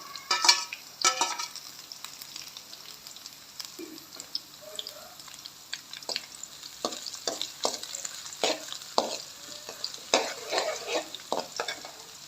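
Green chilies frying in a pan for palak chicken curry: close, crackling sizzle broken by frequent scraping stirs and spatters throughout, with no talking.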